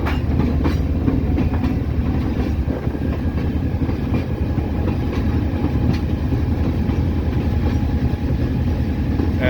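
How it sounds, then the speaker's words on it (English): A ballast train locomotive on dynamic braking, heard from on board as a loud continuous rumble and engine drone with rhythmic wheel clicking, steady throughout with no talk. "And the locomotive is on dynamic braking currently."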